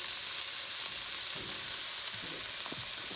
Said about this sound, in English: I'm just going to add a little bit of olive oil to the pan.